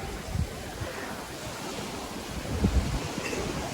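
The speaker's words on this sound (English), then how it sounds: "Nice breeze today coming from the east." A steady easterly breeze blows across Roatan's West Bay beach, making a continuous rushing wind noise over the microphone, with soft surf underneath.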